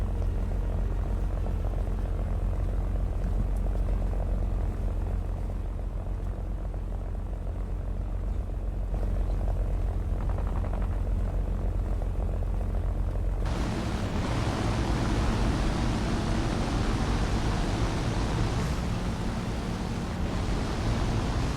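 A propeller aircraft engine in the War Thunder video game drones steadily and loudly throughout, its roar becoming broader and harsher partway through, with no talk.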